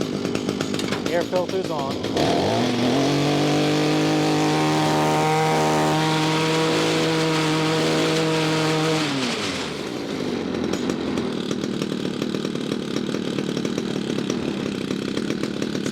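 A gas-powered Echo string trimmer engine runs loudly and steadily, then its revs sag lower and hold for several seconds before cutting out, with a voice speaking briefly before the engine note and again after it stops.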